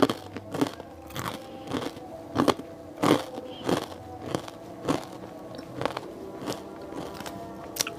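Close, crisp crunching as crunchy dry siomay is bitten and chewed, with repeated irregular crackling bites over several seconds and no talking.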